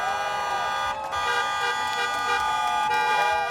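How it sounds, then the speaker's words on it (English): Car horns honk continuously on Las Vegas Boulevard during a street protest, sustained tones blending with traffic and crowd noise, loud and close. "cars on the street honking in support"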